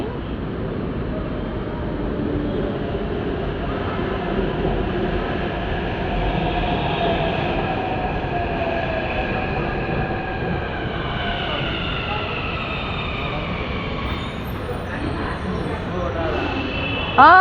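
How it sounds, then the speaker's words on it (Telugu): A metro train rumbles and whines, its pitch shifting as it slows into an elevated station. The noise stays loud and continuous throughout. "metro train"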